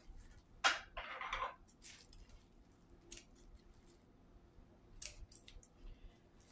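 Scissors trimming excess plastic bag on a jar gift, a few close, crisp snips and crinkling rustles, faint and without talk.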